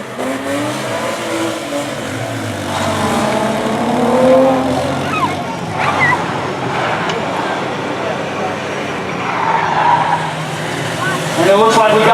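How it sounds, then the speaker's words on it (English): A four-wheeler engine at a Smokey and the Bandit stunt show weekend, revving and rising in pitch in repeated sweeps, loud and near, with tire squeal and vehicle noise mixed under an announcer's talk. "Crystal Hooks is out here on the four-wheeler"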